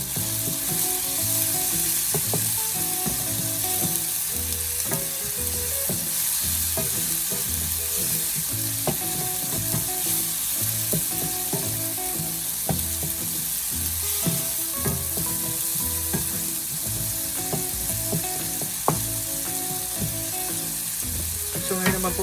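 Chopped tomatoes frying in a pan for pork giniling, a steady loud sizzle with scraping stir strokes throughout, no talking.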